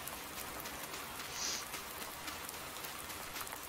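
Steady rain falling in Farming Simulator 19 on the Ravenport map, a soft, even hiss of raindrops pattering on surfaces, fairly quiet and unbroken, with no talk.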